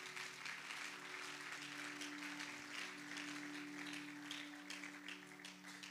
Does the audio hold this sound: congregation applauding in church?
yes